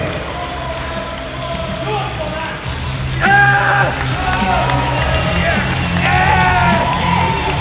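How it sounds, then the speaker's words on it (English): A bodybuilding prejudging crowd at the 2015 Nordic Pro show sends up steady applause packed with loud whoops and shouted cheers, rising in intensity partway through and holding strong to the end. "What a round of applause"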